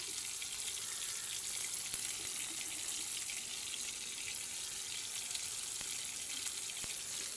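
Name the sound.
katla fish frying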